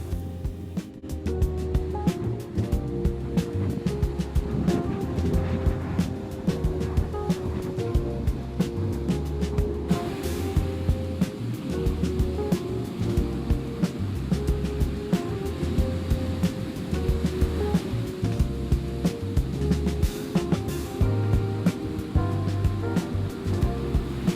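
Strong Atlantic waves break on Santa Bárbara beach in the Azores, a continuous heavy roar of surf with repeated crashing swells and rumbling wash, loud and close throughout.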